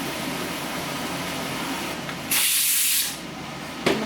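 A home pressure cooker vents its steam in a sudden loud, sharp hiss lasting under a second, followed by a short second puff, over a quiet kitchen background.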